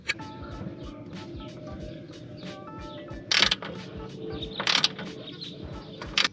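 Crank pulley of a Toyota 4AGE engine in a first-generation MR2 being turned by hand, giving faint irregular mechanical clicks and ratchet-like ticks with a couple of louder rattling bursts.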